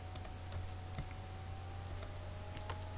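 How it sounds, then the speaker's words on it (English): Faint, sparse keystrokes of someone typing C++ code on a computer keyboard, a few scattered clicks over a steady low electrical hum, with no speech. "I type my else statement."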